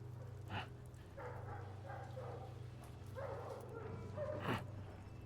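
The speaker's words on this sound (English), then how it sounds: "They're bringing dogs to sniff everyone out." Search dogs in a TV drama scene bark in short, distant bursts over a low steady hum, faint and scattered across a few seconds.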